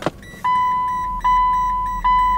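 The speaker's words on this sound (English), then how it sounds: "what you get is a whole bunch of beeping going on, because this car has its own chime, this ding, ding." A car's reverse chime with parking sensor beeps: a sharp click, then a sustained electronic tone pulsing in a steady rhythm about every 0.8 seconds, close and clear, with no talking.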